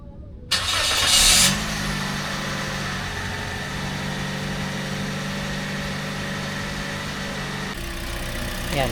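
A Toyota Vios 1.3 engine, freshly refilled with oil, cranks and catches with a brief revving surge, then settles into a steady, close, humming idle that runs for several seconds without talk.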